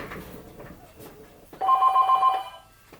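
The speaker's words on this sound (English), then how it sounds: "Oh, telephone, gotta go." A telephone bell rings in one short burst of rapid trilling rings, loud and close, following a stretch of quieter room noise with no talking.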